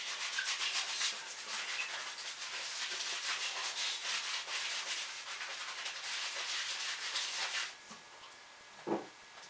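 A bar of soap rubbed back and forth against hair makes a close, continuous scratchy friction rasp, fairly steady for several seconds before easing off, with a brief soft bump near the end.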